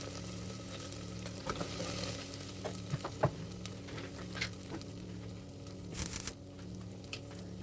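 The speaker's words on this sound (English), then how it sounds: "in a separate pan, heat a tablespoon of oil along with some onions, few garlic cloves," Onions and garlic cloves frying in a tablespoon of hot oil in a pan make a steady close sizzle with scattered stirring scrapes, and a louder crackling burst comes near the end. No one speaks.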